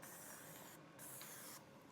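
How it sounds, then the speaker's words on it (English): Spray bottle misting 99.9% alcohol into a resin mold, a faint, close hissing spray with a couple of short bursts and brief pauses, no voices. "and spray in my mold"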